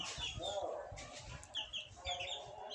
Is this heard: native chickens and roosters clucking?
yes